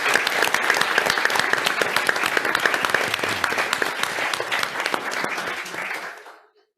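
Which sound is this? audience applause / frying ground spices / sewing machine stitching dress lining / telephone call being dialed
audience applause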